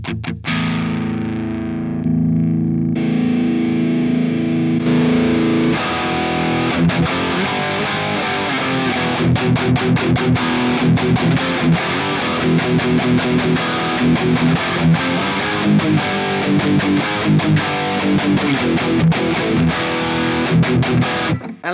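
Heavily distorted electric guitar through a Mooer 005 Micro Preamp plays tight, rhythmic palm-muted chugs, loud and sustained, with a brief quieter chord passage at the start.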